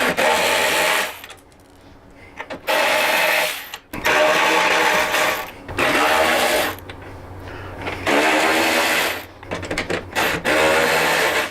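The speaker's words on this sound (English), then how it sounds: "You're going to use a 7/16 socket to remove these 3 nuts." A power tool with a 7/16 socket spins off nuts from a Harley-Davidson Touring motorcycle fender in several loud, close bursts of whirring, separated by short quiet gaps.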